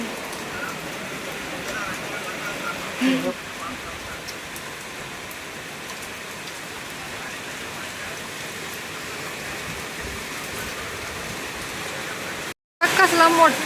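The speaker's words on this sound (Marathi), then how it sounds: "पाऊस पडतोय" Steady rain hisses continuously at an even, fairly loud level, with a brief dropout near the end.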